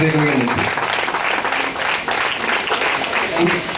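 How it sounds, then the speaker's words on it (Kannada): Audience applause at the inauguration of the Flying Feathers Badminton Academy's indoor stadium at a public club, a loud continuous crowd of clapping hands filling the room for the whole stretch, with voices underneath. "ಜೋರಾಗಿ ಚಪ್ಪಾಳೆ ಮುಖಾಂತರ ಹೀಗೆ ಆಶೀರ್ವಾದ"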